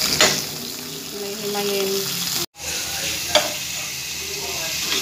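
Vegetables stir-fried in a pan give a steady, close sizzle with occasional stirring scrapes, a brief cut partway through, and a voice speaking faintly now and then.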